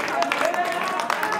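A crowd clapping hands at a live music performance in Abidjan, continuous dense applause with a sustained musical tone and some voices mixed in.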